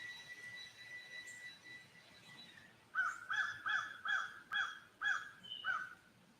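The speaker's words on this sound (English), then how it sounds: "And then I just heard a bird." A crow caws about seven times in a quick, evenly spaced series, fairly clear against a quiet background after faint tonal sounds.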